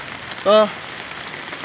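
Heavy rain falls outside as a steady, even hiss throughout, with a single short spoken word briefly heard over it.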